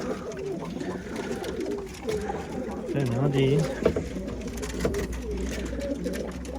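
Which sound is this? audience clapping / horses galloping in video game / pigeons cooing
pigeons cooing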